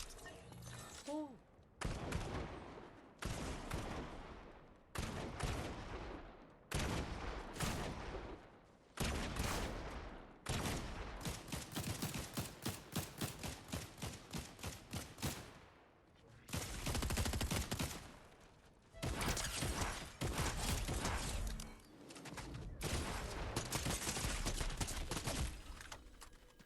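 Rapid combat shotgun blasts in the Fortnite video game, loud repeated shots in quick bursts with brief gaps, mixed with other gunfire and game effects throughout.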